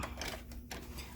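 A sewing machine stay-stitches elastic on a plastic bag holder, a rapid close mechanical chatter of stitching with a brief pause partway through.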